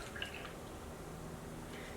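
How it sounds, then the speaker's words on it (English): Water poured from a measuring cup over oats in a container to rinse off leftover residue, giving a steady close trickle and splash with a few small drips throughout. "I'm gonna pour it in here once I measure out my 2 cups of water."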